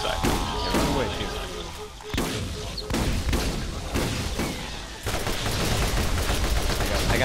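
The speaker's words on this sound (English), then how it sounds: "Alright, this shotgun's gonna do it, I think." Heavy gunfire in a video game fight, including shotgun blasts, with loud repeated booms and dense layered shots filling the whole stretch, mixed with other game sounds and some talking.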